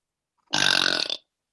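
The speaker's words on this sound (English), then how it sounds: "Sometimes I get shy and I have to close my eyes when I burp." A single long, loud burp from a girl in a burping contest, rumbling steadily for about three-quarters of a second and standing alone against silence.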